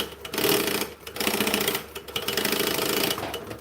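Close and loud, a sewing machine stitches a bag piece in several fast rattling runs separated by brief stops, with no voices.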